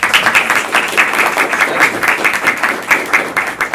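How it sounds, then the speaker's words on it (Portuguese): Loud applause from a meeting audience on electoral financing, a fairly small group clapping in a quick, slightly uneven rhythm with distinct individual claps, close and unbroken across the clip. "Vou me permitir bater palmas para essa resposta."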